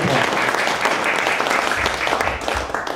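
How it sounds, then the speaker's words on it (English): Steady, dense applause from an audience fills the whole stretch, loud and close, with no speech over it. "applause"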